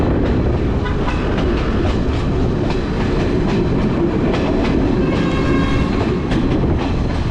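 A train rumbles steadily along the rails with a rhythmic clickety-clack on the Kandy–Ella line in Sri Lanka. The noise is loud and close throughout, as if heard from inside a carriage.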